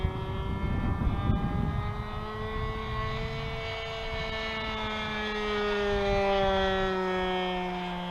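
A Sportsman Aviation Spitfire 60 model airplane engine drones steadily in flight on its maiden outing, a sustained buzzing whine that shifts pitch as it banks and passes, fairly near and alone without talk.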